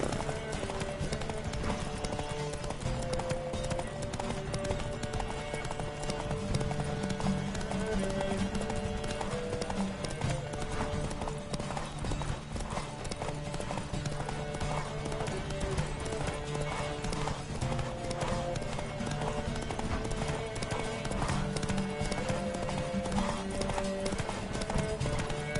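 Horses gallop through a PS4 video game horse race, with continuous rapid hoofbeats and occasional whinnies layered over game music for the whole stretch, moderately loud and without pause.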